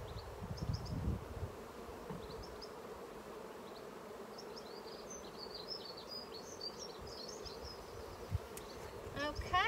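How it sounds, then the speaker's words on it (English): Honeybees hum and buzz steadily around an open hive during an inspection, a dense continuous drone with individual bees passing close, plus faint rustling and a few soft bird chirps in the background. "Wow, they're very busy on this one. Busy building the honeycomb."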